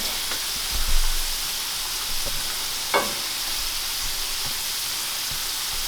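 French fries frying in hot oil, a steady close hiss and crackle of sizzling with a few soft stirring knocks and no talking.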